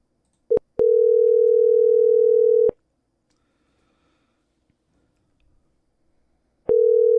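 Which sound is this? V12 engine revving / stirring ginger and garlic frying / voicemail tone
voicemail tone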